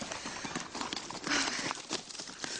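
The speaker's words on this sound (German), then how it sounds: "Hörst du das? Pferde." Horses in a story video game clip-clop in a quick, steady rhythm of hoofbeats, fairly close and continuous, with a faint whinny-like tone partway through.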